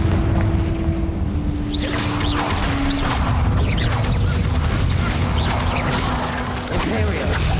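A Confringo fire spell in Hogwarts Legacy explodes with heavy booms and whooshing blasts, loud and dense throughout, with a voice heard over the battle.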